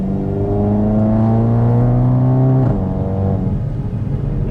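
A hybrid-turbo VW GTI pulls under partial throttle on a backroad, its engine drone climbing steadily in pitch, then dropping at a gearshift and continuing loud and close.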